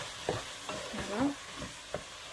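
Marinated octopus with lemon halves, skins on, being stirred in a pan, giving a few distinct scraping and wet clacking strokes over a soft steady sizzle, close by and without talk.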